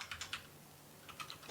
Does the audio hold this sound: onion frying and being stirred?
no